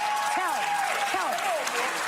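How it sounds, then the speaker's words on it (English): Audience applause at a political speech, a continuous wash of crowd clapping with a speaking voice running over it. "That's a signal to them to start clapping for what she says."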